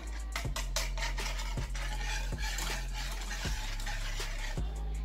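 Sugar being stirred into an orange jelly dessert mixture, with a spoon or whisk scraping and clinking steadily against the bowl, alongside a few sharper knocks and a constant low hum.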